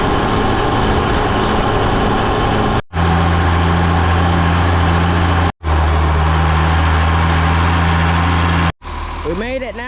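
A diesel tractor engine runs on a farm at planting time, a steady close rumble that cuts out briefly several times, returning with a deeper idle drone and ending on higher revving.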